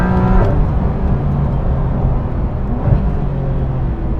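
A Porsche 911 GT3 RS drives a mountain road at Jabal Jais, its engine note loud and close, holding a steady tone throughout.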